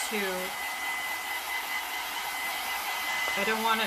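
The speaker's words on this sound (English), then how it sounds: "I'm just gonna give it a little extra drying, just to make sure it's good and dry" A hair dryer blows steadily at close range, drying paint on a wooden tree cutout, a constant loud whoosh with a brief shift in pitch at the start and end.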